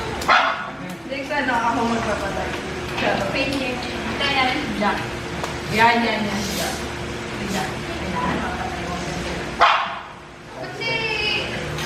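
A dog barks and yips repeatedly nearby while people talk over it, the barks coming in irregular bursts.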